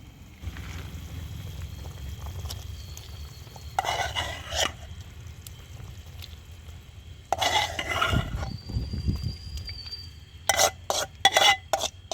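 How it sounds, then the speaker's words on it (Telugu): Small marinated fish added to a pot of tamarind gravy. A steady low simmer runs underneath, broken by several short bursts of clattering and stirring against the pot, with a few sharp metallic taps near the end. "ఇప్పుడు మనం ముందుగానే మ్యారినేషన్ చేసుకొని పెట్టుకున్న ఈ చిన్న చేపలన్నింటినీ కూడా ఆ పులుసులో వేసుకుందాం"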